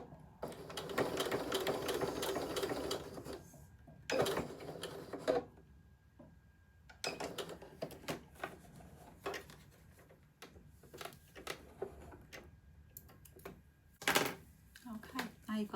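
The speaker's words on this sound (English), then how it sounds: "grab your 2 ends, put them together and sew along there" A sewing machine runs in several short bursts, stitching a quarter-inch seam across fabric scraps for a small phone wristlet purse, with pauses and faint handling noises between runs.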